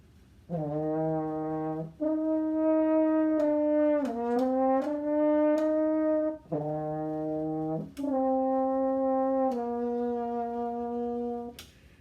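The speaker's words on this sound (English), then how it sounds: "And the French horn sounds like this." A solo French horn plays a mellow melody of sustained notes with a few quicker moving passages, sounding close and fairly full, with short breaths between phrases.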